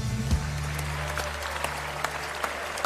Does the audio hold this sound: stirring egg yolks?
no